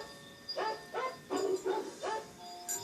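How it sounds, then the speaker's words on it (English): Several dogs bark in a series of about six evenly spaced, moderately loud woofs over faint background hiss, with no talking. "I still hear dogs."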